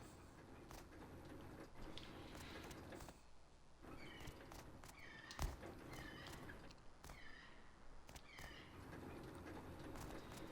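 Horses in the survival video game Rust clip-clop and shuffle in a player's base, with scattered hoof knocks and snorting whinny-like calls, quiet and close, no speech.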